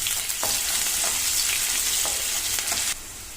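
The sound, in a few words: onions frying and being stirred in oil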